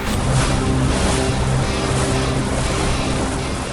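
Boat motoring across rough sea toward Koh Larn (Coral Island) in Thailand, a continuous loud engine drone with low tonal hum mixed with rushing water and wind, steady throughout with no voices.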